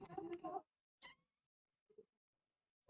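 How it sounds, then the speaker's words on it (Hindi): A cat meows faintly in a few short, separate calls with quiet gaps between them, after a brief stretch of other sound. "बिल्ली"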